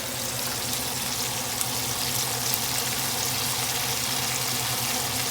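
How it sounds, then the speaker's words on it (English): Buttermilk fried chicken crackles in hot frying oil, a dense, steady sizzle heard up close for several seconds without pause or speech. "Love to hear that sizzle."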